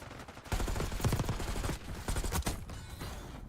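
Rapid automatic gunfire from a Call of Duty Search and Destroy match in a competitive esports tournament crackles in dense bursts, punctuated by sharper individual shots, moderately loud and without talk.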